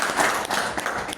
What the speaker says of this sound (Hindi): ताली आप क्यों बजा रहे हैं?